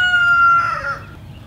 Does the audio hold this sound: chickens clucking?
yes